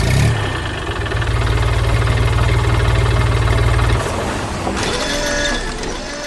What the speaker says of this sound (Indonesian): Mesin kuning sedang memotong kayu dengan gergaji di tengah semak belukar dan pohon-pohon.